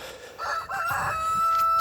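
A rooster crows loudly and close by, one long drawn-out call rising and holding steady.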